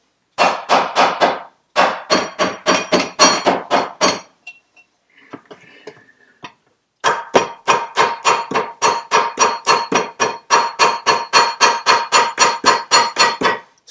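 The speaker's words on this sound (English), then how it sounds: "I am in fact tapping it reasonably gently, trying to keep it all square." A hammer taps gently on a metal part in rapid, even bursts of sharp ringing strikes, loud and close, broken by a short quiet pause before the steady tapping resumes.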